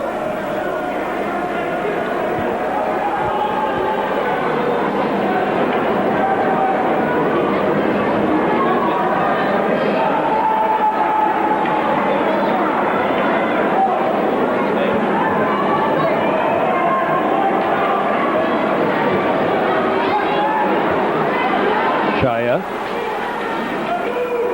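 A big crowd at a high school hockey game between New Trier and Loyola makes a steady, continuous murmur of chatter. A commentator talks over it throughout.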